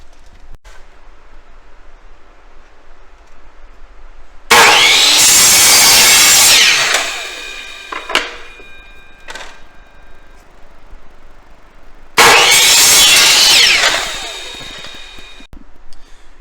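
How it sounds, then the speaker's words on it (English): A power miter saw cuts through a wooden board twice, each pass a loud whining buzz lasting about two seconds, separated by quieter handling clatter and a few clicks between the cuts. "Head back over to the miter saw."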